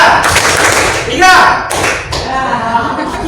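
Sharp hand claps and thumps in a classroom counting game, a few close, loud claps spaced out by count, with voices calling out the numbers between them.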